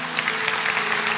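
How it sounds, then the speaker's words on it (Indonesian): A church congregation claps in response to a preacher during a sermon, producing a brief burst of dense, steady applause from many hands, with no speech. "Kasih tepuk tangan tuh Tuhan."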